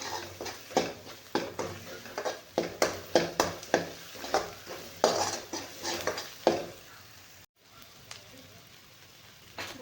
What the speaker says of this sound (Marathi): आता हे सगळे मसाले आपल्याला आणखी छान मिरची आपली टाकलेली चांगली परतून घ्यायची आहे